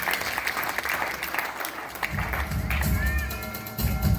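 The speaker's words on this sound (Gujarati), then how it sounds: "આપણે તાળીઓથી વિદ્યાર્થીઓને સન્માનિત કરીશું." Steady applause from an audience at a student honouring ceremony held by a youth association, a sustained broad wash of clapping that swells louder in the second half, with a voice faintly heard beneath.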